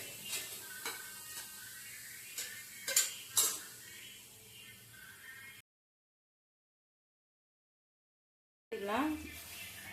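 Cooking jackfruit in a kadai pan: metal utensils clink and scrape against the pan in short taps, then silence, followed by a brief return of clattering.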